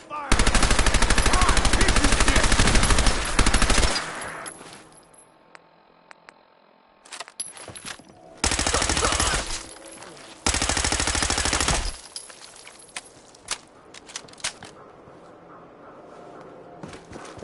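Loud bursts of sustained automatic gunfire in a Fallout 4 combat sequence, a long opening volley then two separate multi-second bursts, with quieter clicks and movement in the gaps.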